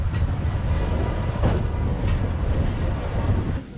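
Train climbing uphill toward a high mountain top near Bogota, Colombia, a steady rumbling rolling noise with faint rhythmic rail clatter, close and continuous throughout.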